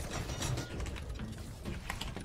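An RPG launcher is reloaded in the Fortnite video game, heard as a dense metallic mechanical clatter and ratcheting that fills the short clip at steady level.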